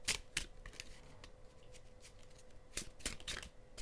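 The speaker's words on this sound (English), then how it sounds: "let me just shuffle" Tarot cards riffle and slap in quick, soft bursts near the microphone, a few sharp shuffles separated by quieter pauses, with no speech.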